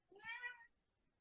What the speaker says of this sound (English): There's my cat speaking.